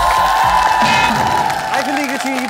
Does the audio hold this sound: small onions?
no